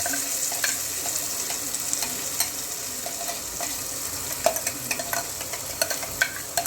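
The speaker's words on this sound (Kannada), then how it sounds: "ಕೊಬ್ಬರಿ, ಬೆಳ್ಳುಳ್ಳಿ, ಶುಂಠಿ ಅದನ್ನೆಲ್ಲ ಹಾಕಿದ್ದು ಇದನ್ನು ನೀಟಾಗಿ ಅದರಲ್ಲಿ ಹುರ್ಕೋಬೇಕು" Coconut, garlic and ginger masala for a fish curry sizzles and fries in a pan. The frying crackles steadily, and a spoon stirs and scrapes against the pan several times.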